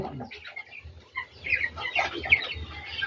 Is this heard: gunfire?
no